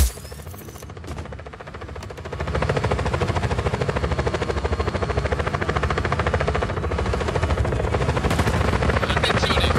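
A helicopter in the video game Just Cause 4 drones with a steady, loud rotor chop that swells after a couple of seconds, mixed with bursts of gunfire and no voices.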